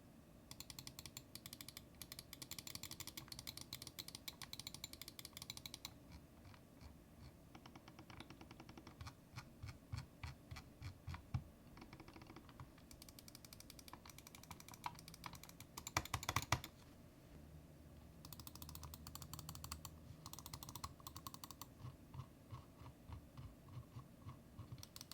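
Logitech Superlight and Glorious Model D Wireless mice being clicked in turn, a long run of crisp, close, rapid clicks in bursts and steady rhythms with brief pauses between sets.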